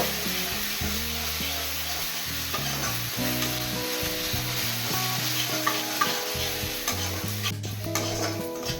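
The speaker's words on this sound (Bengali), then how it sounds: "সব মশলা একসাথে ভালো করে মিশিয়ে নিয়েছি এবার দু থেকে তিন মিনিট ভালো করে কষিয়ে নেব" Spice paste of ginger, green chilli, turmeric and Kashmiri chilli powder sautés in a pan for prawn malai curry, a continuous close sizzle with the scrape and stir of a spoon mixing it.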